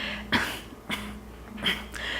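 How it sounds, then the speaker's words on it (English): Three short, sharp forced coughs spaced apart, each a quick burst of breathy noise with a brief voiced edge, close to the microphone. "do a little fake cough."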